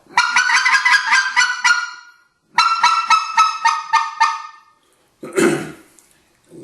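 Specklebelly goose call blown by hand in rapid bursts of sharp, honking clucks, two long runs of repeated notes followed by a short rougher blast, loud and close with no talking.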